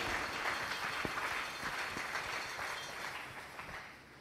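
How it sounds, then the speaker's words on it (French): A church congregation applauds during a sermon, with a steady wash of many hands clapping at moderate distance, fading slightly toward the end. "Acclamons pour le roi des rois."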